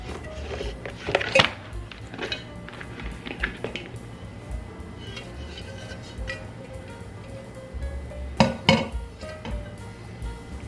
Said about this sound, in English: now I'm going to flip it out of the tube pan